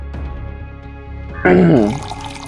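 Liquor is poured into a glass, a short gurgling splash with a rising tone as it fills, heard close after a quieter stretch of room noise.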